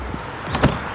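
Caravan kitchen compartment door with pressurized locks being opened, a brief mechanical click and soft thump close to the microphone, followed by a short latch release.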